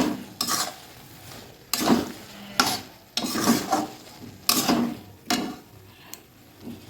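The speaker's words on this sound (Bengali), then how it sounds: "বেগুন ভাজি বসিয়ে দিচ্ছি" Sliced eggplant coated with turmeric and salt goes into a pan to fry, bringing intermittent sizzling along with scraping and clattering of a utensil against the pan across several uneven bursts.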